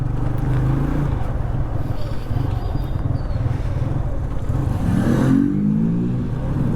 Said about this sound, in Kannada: ಯಾವ ಬೈಕ್ ಅಂದರೆ ಡ್ಯೂಕ್ ಬೈಕೆ.